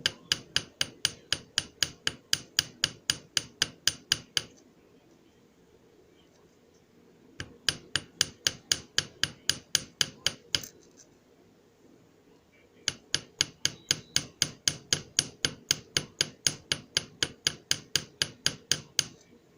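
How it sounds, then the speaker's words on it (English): A hammer taps a small metal leaf pendant charm in three fast, even bursts of sharp, ringing strikes, with short quiet pauses between the bursts. The strikes sound close and crisp. "Pretty much let the hammer do most of the work."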